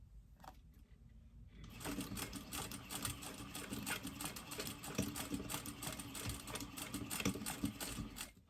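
A sewing machine stitches the end of a lined fabric poop bag holder: after a quiet start with a couple of soft handling noises, a fast, steady mechanical rattle of the needle starts up and runs close and continuous to the end.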